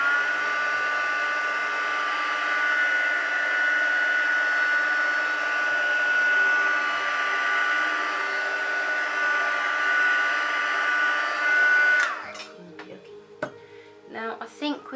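Hair dryer heat setting a crease: a loud, steady whirring blow with a constant whine, running close for about twelve seconds before cutting off abruptly into light handling noises.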